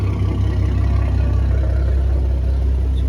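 A 2014 Ford Mustang with a modified x-pipe exhaust idles nearby: a steady, deep low rumble that stays loud and even throughout, with no talking.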